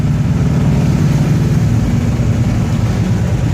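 A 1969 Pontiac GTO engine rumbles steadily as the car drives down the road, a loud, continuous low drone with no voices.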